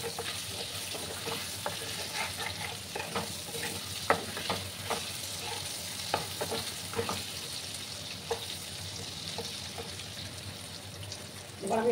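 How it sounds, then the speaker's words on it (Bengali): Potatoes frying in a pan with a little salt, part of a boal fish curry with potatoes: a steady bright sizzle with scattered crackles and stirring clicks throughout, moderately close, no talking. "সামান্য লবণ আমি দিয়ে দিলাম, দিয়ে আলুগুলোকে একটু লাল লাল করে ভেজে নিতে হবে।"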